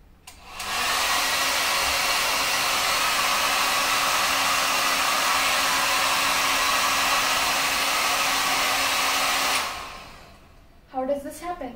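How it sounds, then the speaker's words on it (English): A hair dryer blows a steady, loud stream of air at a ping pong ball for about nine seconds, then switches off, and a voice follows. "The air coming from the hairdryer is much faster"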